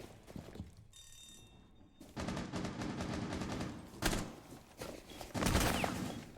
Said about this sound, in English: We see some other shots being fired